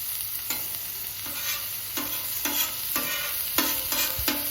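Bacon sizzles steadily on a Camp Chef flat top griddle, a constant close hiss broken by several sharp scraping bursts from a spatula moving across the hot steel, with no talking.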